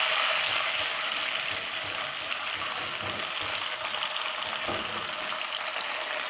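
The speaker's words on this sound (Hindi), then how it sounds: "इसे 1 मिनट तक फ्राई करेंगे अदरक लहसुन के पेस्ट से।" Ginger garlic paste fries in a pan for fish karahi, giving a steady, close, even sizzle and crackle that holds from start to finish with no voices over it.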